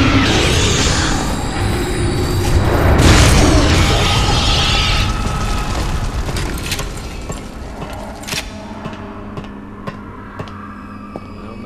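Rocket launcher explosions in the video game NecroVision: a loud, broad blast swells and rumbles, then fades into scattered mechanical clanks and pops.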